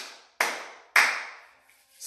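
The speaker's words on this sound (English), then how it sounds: "Clap a few times, minimum 3 times." Two sharp hand claps ring out close and loud, spaced about half a second apart, each with a bright decaying tail, during a qigong and tai chi warm-up class.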